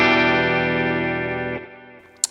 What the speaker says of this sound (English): That's the dry tone that I'm using, of the Katana tone that I'm using, just to give you an indication of what the chorus is actually going into.